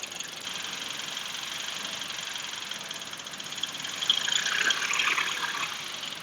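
Mitsubishi Outlander Sport engine idling in a shop with propane fed into the intake, a quiet steady idle hum with light rattle that swells briefly as the idle surges.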